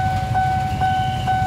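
A train rolls past a railway crossing in heavy rain, a loud, close, steady rumble of wagons with a crossing bell's ringing tones repeating over it.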